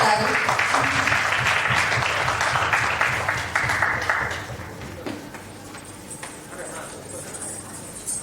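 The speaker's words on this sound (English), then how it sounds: "Round of applause, please." Audience applause at a company rewards and recognition ceremony, fairly loud and dense at first, then thinning and fading toward the end, with some voices talking faintly beneath.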